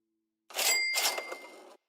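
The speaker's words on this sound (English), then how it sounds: "Maybe the cash register sound." A cash register sound effect plays alone after a brief silence: a bright ringing ding with a sustained bell tone and a rattly second strike, lasting just over a second.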